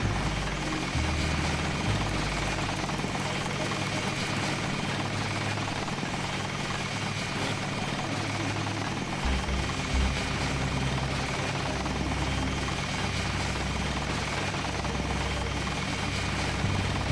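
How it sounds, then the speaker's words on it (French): A helicopter in the game Deus Ex Revision drones with a continuous, steady rotor thrum and engine whine, loud and unbroken throughout. "Et là j'ai un hélicoptère devant moi."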